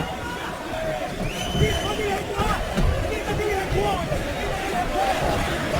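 A UFC arena crowd cheers for Michael Bisping during his fight with Anderson Silva, a dense continuous roar and chatter of many voices that stays loud throughout, with a commentator talking over it.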